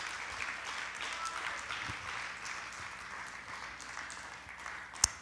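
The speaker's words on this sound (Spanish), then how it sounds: "Dale ese fuerte aplauso a nuestro Dios" A church congregation applauds steadily for several seconds, a continuous wash of clapping with one sharp louder clap near the end.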